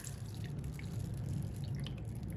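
Red cooking wine poured over meat dressed with bacon and raisins, a steady trickling, dripping liquid sound that runs close and fairly quiet for the whole moment, with no voices.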